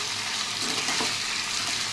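Food frying gently in a pan over low heat, a soft, even sizzle hissing steadily for a couple of seconds with no voices.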